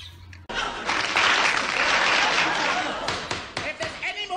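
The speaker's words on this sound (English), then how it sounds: "stock film of women applauding" A group of women applaud in a dense, steady burst of clapping that begins abruptly, holds loud for a few seconds, then thins into scattered claps and murmuring voices.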